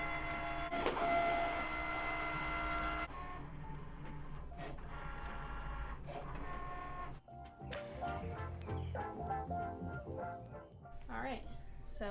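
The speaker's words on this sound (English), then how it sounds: "click the Cricut button and it should just start doing its" A Cricut cutting machine slicing vinyl for a sunset hoodie whirs and clicks in uneven mechanical bursts up close, with a louder, fuller stretch at the start and stuttering motor runs and taps after it.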